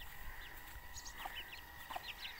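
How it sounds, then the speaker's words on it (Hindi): Thai hen on a farm giving soft, short clucks, a few scattered calls over steady outdoor background noise, fairly faint and without speech. "और एक मुर्गी इधर फिर रही है, ये भी थाई मुर्गी है ये।"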